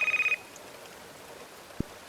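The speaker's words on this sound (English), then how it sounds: "the phone goes." A telephone gives one short burst of electronic ringing at the start, then cuts off into quiet room hiss broken by a single soft knock.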